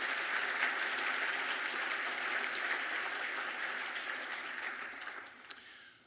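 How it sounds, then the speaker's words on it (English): Audience at a hospital foundation gala giving a sustained round of applause, a dense wash of clapping from a large room that tapers off toward the end. "I think that also deserves a round of applause."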